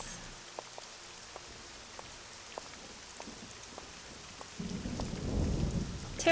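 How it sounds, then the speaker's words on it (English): Steady video game rain with scattered drip-like ticks, then a swelling rumble of thunder rolling in toward the end, moderately loud and with no talking. "The sound effects for the rain is so good."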